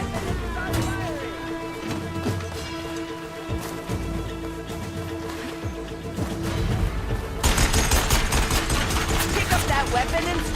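Rapid bursts of weapon fire ring out in the action game Horizon Forbidden West, rattling under a shouting voice and game music, growing denser and louder toward the end.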